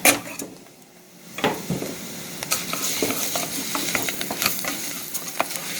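Chopped garlic sizzling in a hot pan with frying shrimp taco prep, broadband crackle swelling after a quiet start and holding steady, punctuated by scraping stirs and utensil knocks close by.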